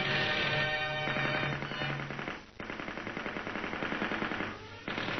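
Machine gun of a Yakovlev fighter aircraft fires in rapid bursts, each a dense, fast rattle lasting a second or two, separated by short pauses, close and loud.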